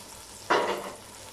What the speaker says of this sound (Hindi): ये देखें गोश्त जो है पकना शुरू हो गया